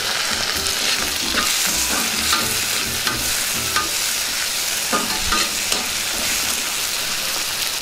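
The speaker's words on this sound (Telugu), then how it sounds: "ఇందులోనే టమాటో ముక్కలు కూడా వేసేసుకుందాం" Tomato pieces fry with ginger-garlic paste for a traditional onion and chana dal curry, giving a steady, close sizzle with scraping stirs and small pops and no talking.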